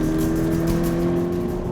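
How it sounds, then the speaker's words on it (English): A naturally aspirated Toyota GT86 engine running hard, giving a steady, loud, droning engine note with strong harmonic tones and no voices. "that engine sounds fantastic when you thrash it"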